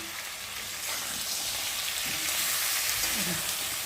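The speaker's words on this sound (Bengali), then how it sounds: "ভালো করে আলুর সাথে মশলাটা কষিয়ে নেবো" Potatoes sizzle in hot oil with turmeric, salt and spices, a steady, close crackle with occasional soft stirring scrapes.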